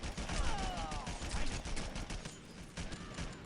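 Rapid assault rifle fire from the video game Red Faction 2, a dense continuous fusillade of loud gunshots with mechanical clatter, steady throughout with no talking.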